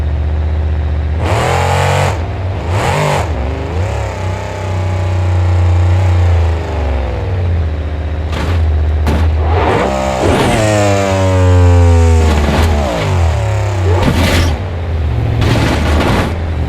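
Monster truck engine in BeamNG Drive, revving in repeated rising surges with a steady low rumble underneath, loud and close, with brief sharp bursts between revs.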